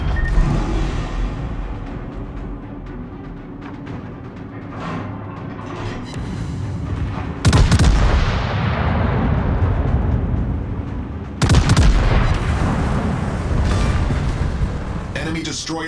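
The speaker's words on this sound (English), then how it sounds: "Enemy destroyer blown up." Naval warfare in a video game, with heavy booming gunfire and explosions as an enemy destroyer is blown up, a dense continuous rumble with two big blasts standing out near and loud.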